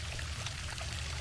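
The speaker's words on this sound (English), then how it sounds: "this trickling sound of water kind of carries through the complex" Water trickles and splashes steadily down a small waterfall by a pool in a condo complex in the Caribbean, a soft continuous pouring sound with no voices.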